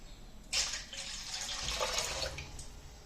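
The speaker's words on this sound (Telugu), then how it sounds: "హాఫ్ లీటర్ పాలకి హాఫ్ లీటర్ వాటర్ యాడ్ చేసుకుందాం" Water pours into milk in a pot for semiya payasam, a brief faint gush that starts abruptly and runs steadily for about two seconds before tapering off.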